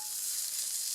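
Steak sizzling in a cast iron Dutch oven over an outdoor fire, a steady close hiss of frying fat that holds at an even level with no talk.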